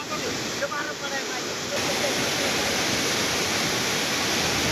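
The flooded Indrayani river at Alandi rushes past in a loud, continuous roar of churning water, a broad steady wash that swells slightly partway through, with no voices.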